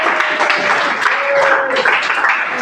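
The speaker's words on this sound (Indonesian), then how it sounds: "Tepuk tangan anak-anak." Children applauding in a classroom lesson, a dense steady patter of clapping with a faint tone and some voices mixed in underneath.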